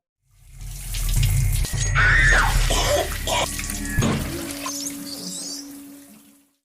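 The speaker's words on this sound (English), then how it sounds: "She then goes to take a shower to get ready for the barbecue." Water from a running shower pours and splashes steadily for several seconds, loud and close, fading slightly toward the end.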